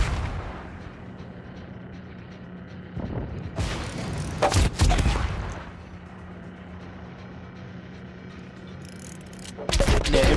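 Warship guns firing armor-piercing shells in World of Warships: a few heavy booming salvos with sharp blasts, separated by low engine and sea rumble.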